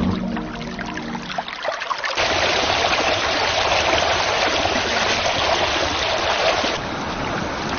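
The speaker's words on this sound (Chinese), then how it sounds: "车辆在湍急的河水中小心谨慎地前行" A swift, rushing river roars steadily close by as vehicles ford its rocky bed, loud continuous water noise after a brief rumbling start.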